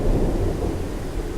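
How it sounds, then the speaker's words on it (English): Deep rumbling thunder rolls beneath steady rainfall in a brief, dense burst, loud and close with no voices. "in a warm summer rain"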